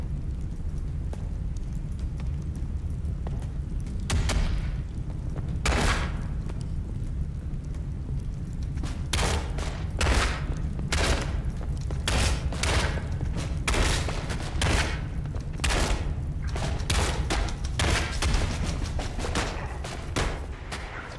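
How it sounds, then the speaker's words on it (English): Gunfire in the video game Paperhead rings out as a long run of sharp, loud shots, some single and some in quick clusters, over a constant low rumbling background. "Where is he shooting from?"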